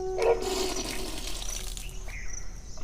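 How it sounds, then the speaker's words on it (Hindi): Water gushing and splashing out of the mouth during a yogic cleansing kriya in which two fingers are placed in the mouth to expel the water, a continuous rushing sound lasting nearly three seconds with no talk. "2 अंगुली मुख में डालते हुए पानी को बाहर किया जा रहा है मुख के द्वारा"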